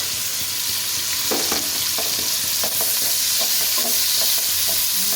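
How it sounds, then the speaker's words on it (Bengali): Chopped onion and green chilli sizzle in a hot pan for homemade mixed fried rice and are stirred now and then. A constant loud frying hiss runs under short scraping strokes, with no talking. "পেঁয়াজটা সামান্য একটু নাড়াচাড়া করবো, খুব লাল লাল করে ভাজবো না"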